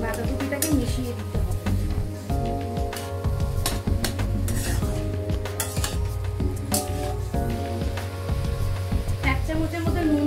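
Boiled cabbage with spices stirred in a pan, a continuous scraping and clinking of the utensil against metal over a low sizzle, close and busy throughout.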